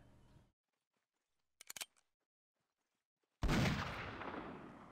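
Gunfire in the Mount and Blade Warband 1860s Old America mod, a quiet stretch broken by a quick cluster of sharp distant shots, then a loud close blast that rings out and decays slowly.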